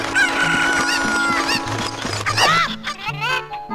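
Cuckoo chickens in the video game Zelda: Ocarina of Time cluck and squawk in a busy overlapping flock, loud and close, with game music playing underneath.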